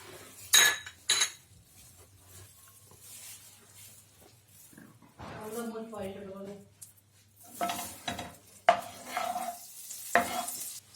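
Butter melting and being stirred in a pan to start a white sauce for pasta, with a spoon scraping the pan in short bursts and a soft sizzle, and a voice talking partway through.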